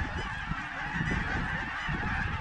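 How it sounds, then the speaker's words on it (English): A flock of geese honks continuously during a waterfowl hunt, many overlapping nasal calls forming a dense, loud chorus with no voices. "Look at all the geese coming"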